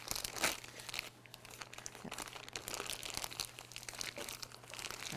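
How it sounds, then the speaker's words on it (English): Crinkling plastic as a bag holding risen bread dough is opened, a close, continuous rustle with several sharper crackles, fairly quiet. "So once I open this bag"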